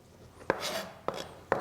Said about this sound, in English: if you want to, chop it up like we have been doing